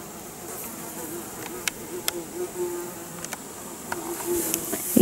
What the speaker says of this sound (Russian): И пчелка вон.